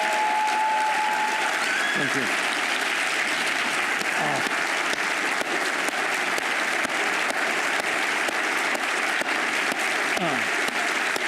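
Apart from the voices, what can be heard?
thunderous applause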